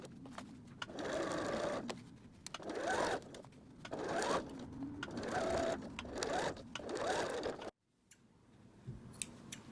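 A sewing machine back stitching across gathered fabric, running in several close bursts of rapid whirring with short pauses between them, then stopping, followed by a brief quiet handling click.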